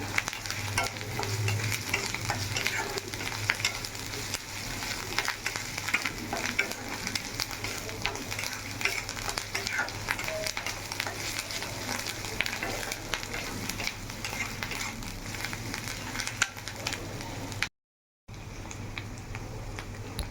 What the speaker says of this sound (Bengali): এবার দিয়ে ভালো করে লো ফ্লেমে আস্তে আস্তে করে ভাজতে হবে।